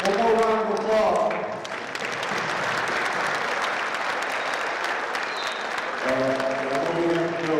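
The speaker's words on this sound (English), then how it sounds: "One more round of applause." Audience at a Leadership Academy for Young Men community gathering breaks into a loud, sustained round of applause that builds for several seconds, with a voice talking just before and right after.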